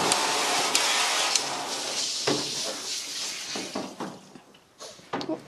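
A steady hiss of running water sprays during a Shih Tzu's bath, continuous and fairly close, with a few knocks and splashes breaking through as the stream fades toward the end.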